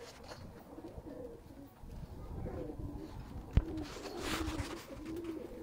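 Heera Lal pigeons cooing steadily at close range in a loft, soft throaty coos repeating over a busy background with a sharp knock partway through.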